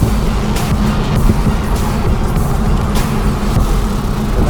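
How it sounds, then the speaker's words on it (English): A yellow Chevrolet Corvette approaches and passes on a scenic road, heard as a loud steady engine and tire roar over constant wind and road noise from inside a moving car. "What's this yellow car coming up?"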